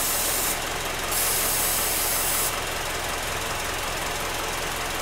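Brake cleaner hisses in short bursts from a spray can near the idling engine of a 2009 Honda CR-V, over a steady, loud engine drone with a faint knock.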